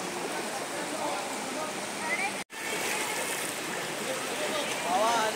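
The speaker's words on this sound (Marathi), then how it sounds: "ही आहे आपली नदी" River water flows over a small dam in a rural Konkan village, a steady broad rushing wash that stays constant and moderately loud, with a brief dropout midway.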